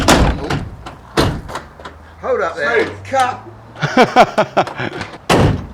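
Door of a classic Mini car, faulty, slammed with a couple of sharp thuds among people talking nearby, plus a low hum running underneath.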